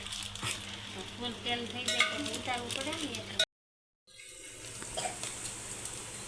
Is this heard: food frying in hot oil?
yes